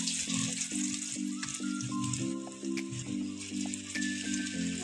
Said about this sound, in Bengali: আমার সোয়াবিনের পকোড়াগুলো ভাজা হয়ে গেছে